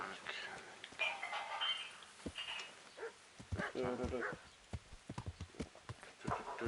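Horse hooves clip-clop steadily in the medieval game Kingdom Come, a rhythmic run of hoofbeats at moderate volume with a person talking over them throughout.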